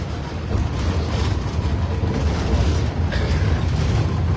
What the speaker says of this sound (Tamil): இந்த புல்லட், அது ஒரு புல்லட் ட்ரெயின் போது பாருங்கள்